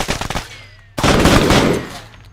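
Gunfire in Arma 3, a rapid machine-gun burst of evenly spaced shots followed by a louder, sustained blast of fire that rings out and fades, close and loud.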